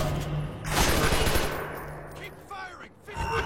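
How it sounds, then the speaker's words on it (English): Rapid gunfire bursts in an action scene near a bridge behind a cafe, loud and dense at first and then tapering into scattered shots with a low steady hum underneath. "Keep firing!"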